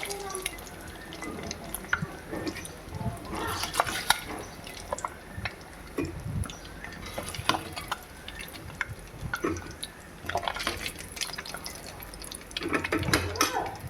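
Pricked eggs frying in hot oil in a pan for an egg curry, giving a steady, close crackling sizzle with scattered sharp pops throughout.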